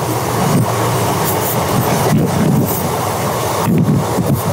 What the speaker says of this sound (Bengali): এই দেখো ট্রেন আমাদের ঘুরছে